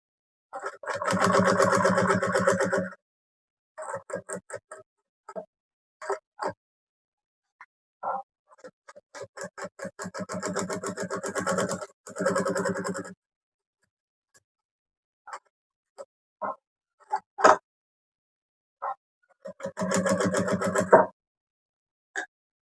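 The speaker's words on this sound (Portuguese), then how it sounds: "E aí a gente vai costurar aqui." Domestic sewing machine stitching around a fabric bag in bursts: several rapid runs of needle clatter separated by pauses, with a few isolated clicks and taps between them, close and clear.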